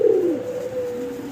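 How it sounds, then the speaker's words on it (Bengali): A single big Gopalganj pigeon gives one close, clear coo that dips and then holds a steady low hum, with no talk over it. "সিঙ্গেল এক পিস কবুতর দেখাচ্ছি আপনাদেরকে"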